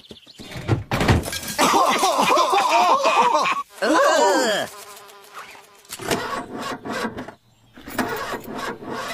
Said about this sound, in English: She'll purr like a kitten when I start her up.